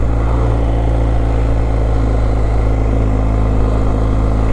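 BMW GS 1250 motorcycle at speed, a steady low engine drone blended with constant wind rush, loud and continuous with no pauses.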